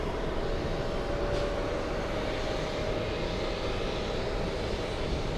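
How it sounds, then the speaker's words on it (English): A Condor Airbus A380 airliner in beige beach livery lands and taxis at an airport, producing a steady, broad engine roar that stays loud and continuous throughout, with no one speaking. "Condor A380 beige beach livery, estimated arrival at 1:35 p.m."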